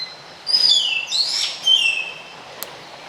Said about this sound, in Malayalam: നിറയെ കിളികൾ കരയുന്നുണ്ട്